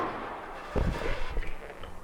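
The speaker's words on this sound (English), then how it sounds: "they heard the gunshot" A single gunshot in the Backrooms video game: a sharp broadband crack about three-quarters of a second in, followed by a few fainter thuds and rumbles over quiet background ambience.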